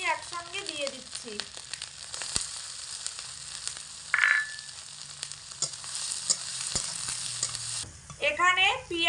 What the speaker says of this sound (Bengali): দুটো মিডিয়াম সাইজের পেঁয়াজ খুব কুচি কুচি করে নিয়েছি আর 4টে কাঁচা লঙ্কা কুচি একসঙ্গে দিয়ে দিচ্ছি।